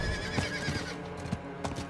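A horse mount in the video game Diablo IV whinnies over the steady clip-clop of galloping hooves. The sound is continuous and moderately loud, and no one speaks over it.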